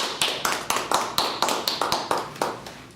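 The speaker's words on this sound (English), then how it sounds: "Give yourselves a round of applause" Panelists at a State Senate District 20 veterans-in-politics forum give themselves a round of applause: about a dozen crisp, evenly spaced claps, close and fairly loud, with little else underneath.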